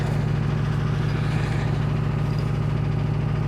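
A Porsche 356 with a new engine runs steadily on its first drive in four years, a constant low, throbbing engine note with even vibration throughout and no voices.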